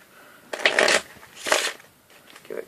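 Two quick riffle shuffles of playing cards, crisp and close, followed by a softer short shuffle.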